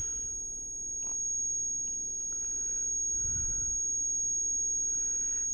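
Batman: Arkham Asylum video game audio after an explosion plays a thin, steady high-pitched ringing tone mimicking tinnitus, held continuously over faint muffled background sounds.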